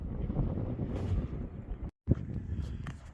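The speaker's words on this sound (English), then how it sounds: "That wind today has been relentless" Strong, relentless wind gusting outdoors near a Ford F350 with a 7.3 Powerstroke diesel, roaring and buffeting the microphone with a brief drop-out midway before the rush returns.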